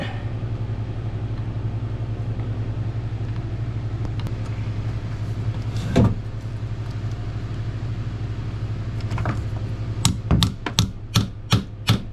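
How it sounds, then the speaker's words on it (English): A chisel is tapped into a stuck fitting on a Seawater Pro water maker aboard a small boat, with a few isolated metallic knocks and then a quick run of six sharp taps at the end, over a constant low engine-like hum. "Just to tap a chisel into here."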